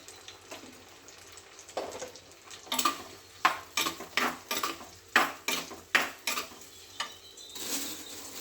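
Two tomatoes sautéing in a pan for a Tamil brinjal kara kuzhambu: a low sizzle runs under a quick series of sharp metallic scrapes and clacks of a spoon stirring against the pan, loud and close.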